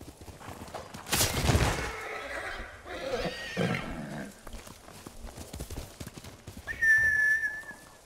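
A horse neighs and whinnies loudly in the Ghost of Tsushima video game, with hooves clip-clopping and a whistle-like call near the end, no talking.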